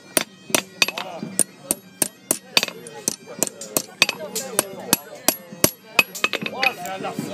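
Sharp metallic hammer strikes ring out as an arrowhead socket is forged, a steady series of about twenty loud close blows at an irregular, brisk pace, each with a short clinking ring.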